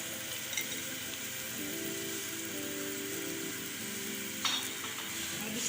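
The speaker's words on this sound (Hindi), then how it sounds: "घी उतना डालें जिससे अच्छी तरह फ्राई हो जाए।" Paratha cooking in ghee on a hot pan, giving a steady, close sizzle with soft crackle that runs throughout, with a brief sharper spatter near the end.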